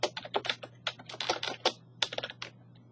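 Fast, light clatter of typing on a computer keyboard, keys tapped in quick irregular bursts close by, with a steady low hum underneath and no talking.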